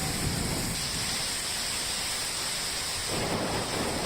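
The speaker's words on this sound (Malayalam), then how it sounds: "ഇവിടെ ഇപ്പോൾ നിങ്ങൾ കാണുന്നത് മിയാവാക്കി വനത്തിൽ കാറ്റ് വീശുന്നതാണ്" A strong, continuous monsoon wind roars through the trees of a Miyawaki forest, loud and steady with a broad, noisy whoosh and no voices.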